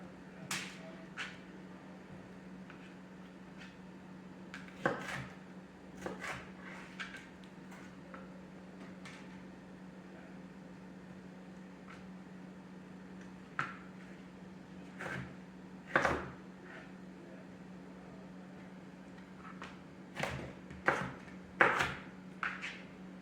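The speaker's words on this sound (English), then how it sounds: "I'm just going to slice them into strips." Scattered sharp knife taps on a cutting board as a pepper is sliced into strips, irregular clicks and knocks spread over a quiet kitchen background with a low steady hum.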